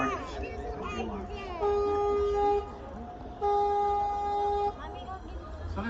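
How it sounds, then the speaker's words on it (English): A river tour boat on the San Antonio River Walk sounds two clear, sustained horn blasts with a short pause between them, standing out over low background murmur. "As in case of any cross traffic here, I have to honk the horn."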